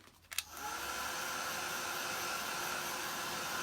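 A hair dryer blowing air to dry a paper craft flower switches on after a brief click and then runs as a steady, close, even whoosh without a break.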